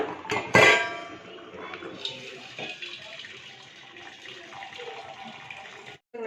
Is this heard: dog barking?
no